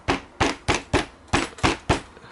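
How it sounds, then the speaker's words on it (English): A hammer strikes leather bonded with Konishi G17 or EcoStick 1816B glue: seven sharp, evenly spaced blows, close and loud, in a steady rhythm with nothing else heard. "now you need to hammer this"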